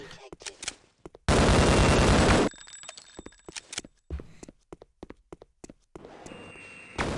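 Video game gunfire, including shotguns, comes as a loud sustained automatic burst followed by scattered sharp shots and cracks, then another rapid burst near the end.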